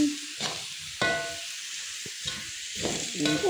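Fried noodles are stirred and tossed in a sizzling pan after white pepper is added, with a steady frying hiss broken by several scraping and clattering stirs of the utensil.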